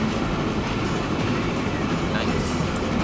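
A long train rolls along the track in a train video game, giving a steady, dense rumble with a faint rhythmic clatter that holds at an even level throughout.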